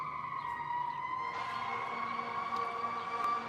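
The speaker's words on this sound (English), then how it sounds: "Sirens always going off." Sirens wail with sustained, slowly gliding tones, a bit distant but clear, layered over a low hum of city traffic in Washington DC.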